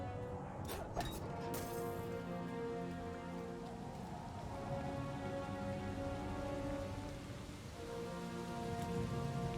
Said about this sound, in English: There's like a cloud. Blood rain.